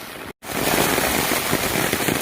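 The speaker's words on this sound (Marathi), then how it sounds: "पाऊस खूप लागतोय आज गावाला, पाऊस खूप आहे." Heavy morning rain falls in a village by a stream, a loud, dense, unbroken roar of downpour that drops out for a split second near the start.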